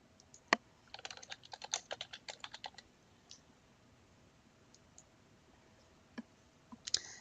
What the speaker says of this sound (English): we type the text into this bar and click the Add button